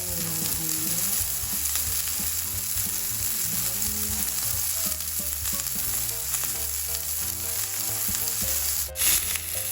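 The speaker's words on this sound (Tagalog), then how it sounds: "binaliktad na natin yung ating steak" Steak seasoned with salt and crushed black pepper frying in a pan for a keto meal, a loud steady sizzle with stirring scrapes throughout and a brief sharp clatter near the end as it is flipped.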